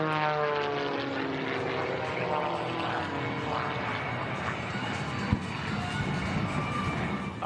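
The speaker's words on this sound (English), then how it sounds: "Hayden Prophet II firing up those two jet afterburning engines" Twin jet afterburning engines firing on an aircraft at an air show: a loud, continuous roaring drone with shifting harmonic whine and a brief sharp pop, sustained throughout without talk.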